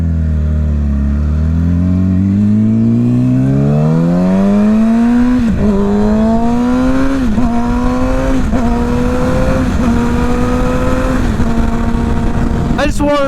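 A motorbike ridden through sand, its engine loud and close, revving and climbing in pitch with repeated gear-like surges across the whole stretch.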